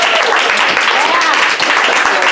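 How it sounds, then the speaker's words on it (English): An audience gives warm, hearty applause at a home gathering, dense continuous clapping from many hands close by, filling the whole moment. "I thought a warm, hearty applause for Carrie and Mark Sisson."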